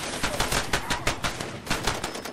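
Rapid bursts of gunfire in the video game Far Cry 2 crackle in quick succession, sharp and fairly close, a few short volleys in a row with no talking.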